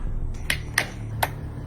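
A few sharp claps or snaps ring out one at a time at an uneven pace, close and fairly quiet, over a low steady hum during a hide-and-seek game.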